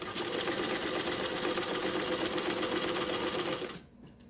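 A sewing machine stitches a pleated fabric face mask, giving a steady, close, fast mechanical whirr and needle clatter for several seconds before it stops abruptly into near quiet.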